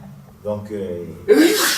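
A single sharp sneeze bursts out at the end, right after a brief spoken word and an intake of breath.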